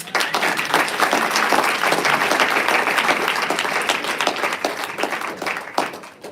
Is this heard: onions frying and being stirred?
no